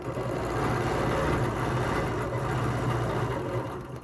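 Machine quilting in an overall hearts and loops pattern, the sewing machine running in a steady, continuous mechanical hum and rapid stitching at close range.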